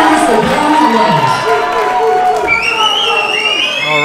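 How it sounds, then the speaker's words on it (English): Loud, raucous crowd at a kickboxing fight night in Leeds cheering, whooping and shouting continuously through a fighter's introduction, with voices talking over the noise. "Probably the most raucous crowd we've had so far."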